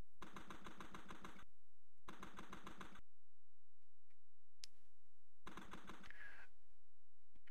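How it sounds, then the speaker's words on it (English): Machine gun fire in the Amiga video game Team Yankee: rapid, rattling bursts of clipped synthetic shots, three long volleys separated by short pauses, with faint game sounds in between. "So that's like the machine gun."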